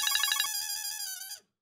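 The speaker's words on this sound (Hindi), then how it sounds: "लो, उसी का फोन आ गया।" A telephone ringtone chirps in a quick warbling burst, then holds a steady electronic tone before cutting off abruptly; loud and close, alone without talk.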